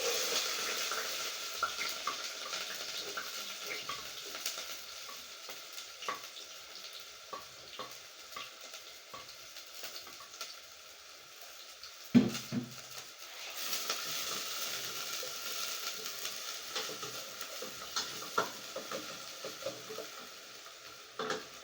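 Garlic and spring onions sizzle in a one-pot vegetable rice pan, a steady hiss of frying with soft stirring and clatter, briefly interrupted by a sharp knock partway through before the sizzle resumes.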